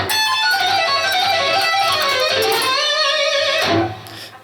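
A fast electric guitar lick in A, played high on the neck as a quick run of sustained, ringing notes, loud and alone before fading at the end.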